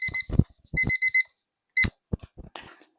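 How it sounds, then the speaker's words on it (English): Phone alarm rings in short bursts of bright, repeated electronic tones, close and fairly loud, with brief pauses between the bursts. "it's my alarm."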